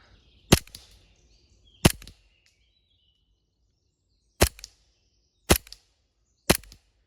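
Five sharp, loud pops from an airsoft gas blowback pistol fired outdoors toward a tree, spaced irregularly over several seconds with quiet gaps between shots.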